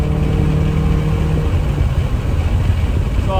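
A Honda Prelude engine holds a steady mid-range drone from inside the car, with a brief rising harmonic early on that settles into a continuous, loud engine hum.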